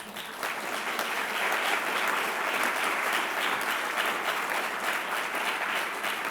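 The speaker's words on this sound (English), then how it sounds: "You can give him a round of applause." A large audience applauds at the AAAS Breakthrough of the Year award ceremony, giving a steady, even round of clapping that carries through the whole stretch.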